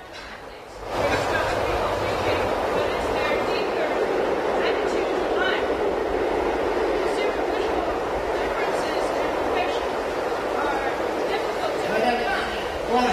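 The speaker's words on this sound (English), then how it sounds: "Can't you hear that train?" Continuous broadband rumble of a passing train, steady and fairly loud for over twelve seconds beneath people talking nearby.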